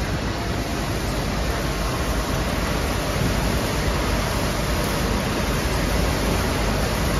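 Wood pellets pouring in a loud, continuous dense rush while a load is dumped onto a scale, a steady broadband roar with no breaks.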